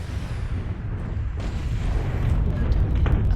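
Artillery fire in the mech combat game MechWarrior Online, a loud sustained rumble of heavy booms and low impacts rolling continuously, with mechanical clatter layered over it.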